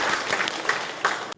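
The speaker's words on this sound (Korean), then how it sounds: "우리 수고한 친구들을 위해서 박수 한번 하겠습니다" Brief burst of clapping from a church congregation at Dongsan Church in Seongnam, a close, busy patter of many hands that cuts off abruptly after little more than a second.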